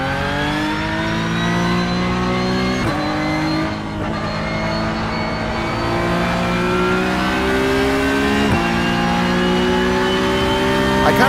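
Simulated race car in iRacing holds a loud, sustained engine whine that climbs through the revs and snaps down at a couple of upshifts, steady and close with no break.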